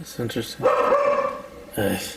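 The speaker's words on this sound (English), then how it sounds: "I apologize if you hear my dogs barking in the background." Dogs bark in the background in a couple of short yips at the start and again near the end, with a person talking in between.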